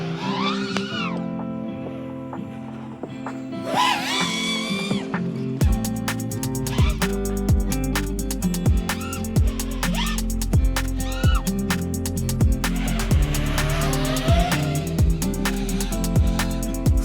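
Budget-motor FPV racing drone flying and hovering, a steady buzzing whine with harmonic sweeps that rise and fall as the throttle changes, loud and continuous through most of the stretch.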